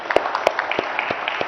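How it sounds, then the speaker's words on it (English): An audience at a minister's white-paper release on post-COVID IT industry needs gives a brief burst of clapping for the IT industry, a quick patter of close, crisp handclaps with no talk over it. "I think you guys deserve a big round of applause."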